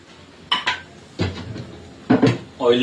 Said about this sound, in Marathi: आता आपण फोडणी द्यायला भांडा घेतलाय